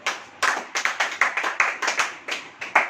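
A church congregation claps along in a quick, fairly regular rhythm of sharp, close hand claps, about a dozen in quick succession, with no speech over them.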